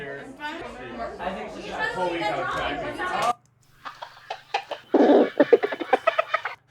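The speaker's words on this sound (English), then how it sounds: "Some chickens." A crowd chatters for a few seconds, then stops. Chickens follow with a run of short, close clucks in uneven bursts that get louder toward the end.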